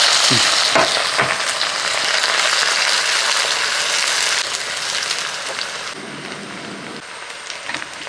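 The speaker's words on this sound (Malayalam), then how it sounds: "ഇതൊന്ന് കുറച്ചെടുത്ത് നമ്മൾ വറക്കാനായിട്ട് എടുക്കുകയാണ് അപ്പോൾ എണ്ണയൊക്കെ ചൂടായിട്ടുണ്ട് ഇതേപോലെ ഒരു പിടി അങ്ങോട്ട് ഇട്ട് കൊടുക്കാം" A handful of sliced onions hits hot oil for a Manjali chicken biryani, bursting into a loud, steady close-up sizzle with scattered pops and crackles that eases slightly toward the end.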